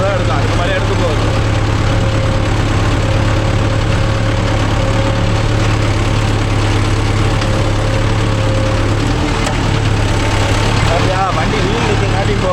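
A Mahindra Yuvo Tech Plus 585 4WD tractor with a shuttle gearbox drones steadily throughout, pulling a 9-tine spring cultivator, its heavy low engine hum continuous and close while someone talks over it.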